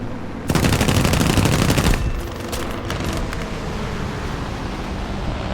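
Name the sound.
H-81A-2 aircraft machine guns firing in video game War Thunder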